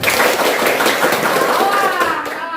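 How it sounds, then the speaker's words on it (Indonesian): Classroom of students clapping in a patterned count game during a biology lesson, a dense burst of many hands with overlapping voices throughout, steady and fairly loud before easing off at the end. "Tepuk sekali, 2 kali, 3 kali, ramai sekali."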